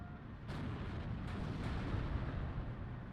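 Distant, rumbling gunfire and artillery from a WW2 real-time strategy battle, with dull thuds and bursts rolling steadily over a continuous low battlefield din, no voices.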